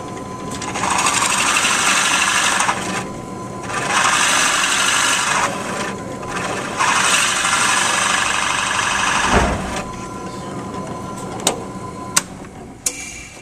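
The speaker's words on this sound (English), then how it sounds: "clamp down your stock so that it doesn't move while you're drilling" A drill press whines through wood in several sustained bursts a couple of seconds each, with short pauses and a few sharp clicks near the end.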